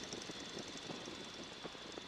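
A Stearman biplane's radial engine idles with the power pulled fully back in flight over Florida, a steady low throbbing drone with a faint rumble, no talking.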